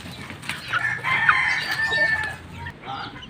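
Chickens cluck and a rooster crows at a backyard farm with chicks and gamefowl, the calls close and moderately loud, overlapping over about three seconds of steady barnyard noise with no talking.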